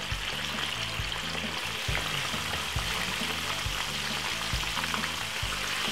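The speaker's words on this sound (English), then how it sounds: "Do not rush when you're frying the chicken, please." Chicken frying in a pan of oil gives a steady, close sizzling hiss that runs unbroken the whole time, with faint low clatter and stirring underneath.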